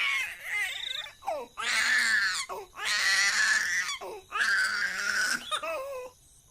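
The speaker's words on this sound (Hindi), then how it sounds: "गुड़िया के रोने की आवाज" A baby girl cries in loud, wavering wails broken by short gasping pauses, about four long sobbing bursts heard up close with no other voices.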